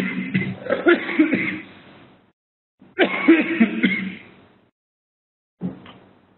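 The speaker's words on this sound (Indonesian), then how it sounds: "saya sedikit batuk." A person coughing into a close microphone, two drawn-out rough coughing fits separated by a pause, then a short final cough, with no other sound between.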